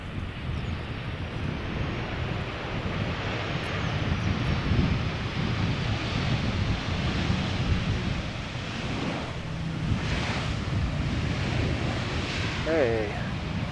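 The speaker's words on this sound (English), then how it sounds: "This is Transavia arriving from Olbia. Flight 6914. One of the many 737-800s in Transavia's fleet." A Transavia Boeing 737-800 airliner arriving at Schiphol Airport roars loud and steady over wind noise, its broadband rumble swelling through the middle before easing off.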